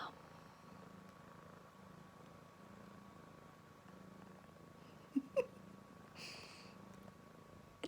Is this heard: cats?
yes